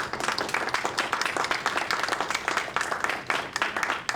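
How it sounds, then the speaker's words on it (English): Audience at a board meeting breaks into sustained applause, a dense, even patter of many hands at moderate distance that tapers off near the end. "hope the audience would please join me in a round of applause to help celebrate these amazing individuals"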